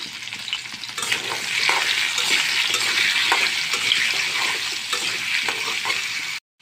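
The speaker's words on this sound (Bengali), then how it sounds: "এটার মধ্যে আমি আলুগুলো আগে ভেজে নেব" Oil sizzles and crackles steadily as potatoes fry in a pan, with occasional stirring scrapes, continuous and close until it cuts off at the end.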